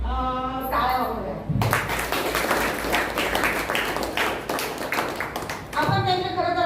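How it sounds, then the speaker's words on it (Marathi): An audience applauds the meditation centre teachers at the closing of a Dhamma camp, a dense burst of clapping lasting several seconds between stretches of a speaker's voice. "सर्व केंद्र शिक्षकांसाठी टाळ्या वाजवल्या"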